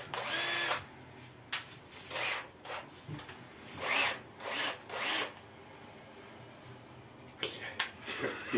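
A cordless drill driver whirs in several short bursts while a room is being cleared out, each spin rising and stopping with quiet handling noise between.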